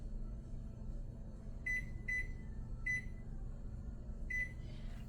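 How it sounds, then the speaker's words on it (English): Digital kitchen timer or oven panel being set for baking a cake, giving four sharp electronic beeps at irregular spacing over a steady low appliance hum, no talking. "Set my timer."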